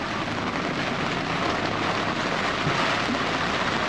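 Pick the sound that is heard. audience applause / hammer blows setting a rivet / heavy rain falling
heavy rain falling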